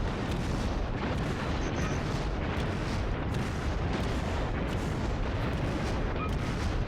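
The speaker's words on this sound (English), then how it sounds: "still taking HE damage to the upper superstructure." High-explosive shells pound a battleship's upper superstructure in the World of Warships naval game, a relentless barrage of overlapping booms and blasts that fills the whole stretch at steady, heavy loudness.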